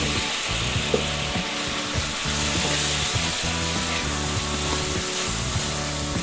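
A splash of white wine sizzles in a hot pan used for an orange roughy sauce, giving a loud, continuous frying hiss with a steady low hum beneath it.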